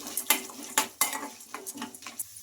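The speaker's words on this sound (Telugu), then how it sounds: "ఇంకా ఈ పప్పులన్నీ మనకు కొంచెం బాగా ఫ్రై అయిపోవాలి" Urad dal and cumin fry in a pan while a spoon scrapes and taps against the metal in quick, uneven strokes over a faint sizzle.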